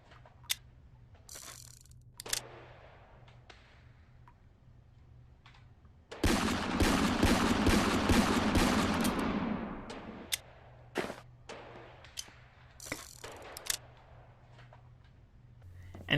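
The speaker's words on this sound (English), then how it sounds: "And although it doesn't sound the greatest, I love this MP5." An MP5 submachine gun fires in a video game: one sustained automatic burst of about four seconds, loud and close, surrounded by scattered sharp clicks and short mechanical handling sounds over a low hum.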